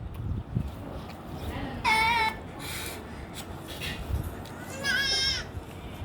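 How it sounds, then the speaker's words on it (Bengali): A goat bleats twice, a few seconds apart, with wavering cries over steady background noise. "ছাগল"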